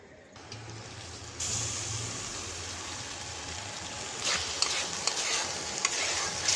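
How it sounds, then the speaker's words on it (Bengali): Spice paste frying in oil in a pan at dusk, a soft, even sizzle close by with a faint low hum early on and a few light stirring scrapes toward the end, no talking. "মশলাটা আমার ভাজা হয়ে গেছে, আর মশলা দিয়ে হালকা তেল ছেড়ে দিয়েছে"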